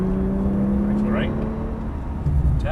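A Porsche 911 Turbo engine drones steadily and loudly on a racetrack as the car pulls out of a corner, with a voice talking over the engine.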